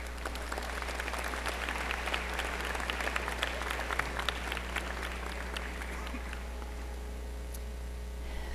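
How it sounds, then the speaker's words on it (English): A large graduation audience applauding the families and friends of graduates in 2016, sustained clapping that stays even for about six seconds then tapers off to a few last claps over a low background hum. "give a big round of applause to these people who have helped you so"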